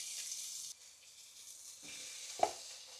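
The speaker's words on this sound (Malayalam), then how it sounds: "ഒരു 2 മിനിറ്റ് വേണം ഒന്ന് ഫ്രൈ ചെയ്യാൻ" Prawns frying in olive oil in a pan, a bright hissing sizzle that drops to a softer crackle partway through, with a brief utensil clatter near the end.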